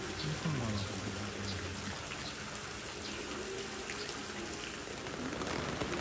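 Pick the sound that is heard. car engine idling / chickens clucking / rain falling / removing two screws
rain falling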